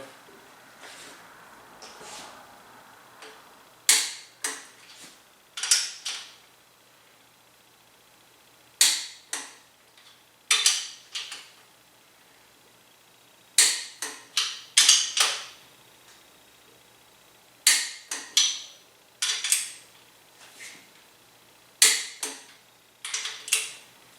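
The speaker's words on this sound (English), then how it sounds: "So now I'm going to torque to 60 foot-pounds in the same pattern." A click-type torque wrench tightens bolts to 60 foot-pounds during an old-school 383 stroker engine assembly. Sharp, close clicks come in small bursts of two to four, separated by quiet pauses, repeating across the whole stretch with no talk.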